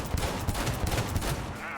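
Gunfire from a weapon in the video game Cyberpunk 2077, a rapid burst of close, dense shots fired in a continuous stream.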